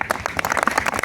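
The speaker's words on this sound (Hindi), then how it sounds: "एक बार इनके लिए जोरदार तालियां बजाएं।" Loud, dense applause from an audience at a live Haryanvi ragni folk performance, a sustained wash of many hands clapping close by.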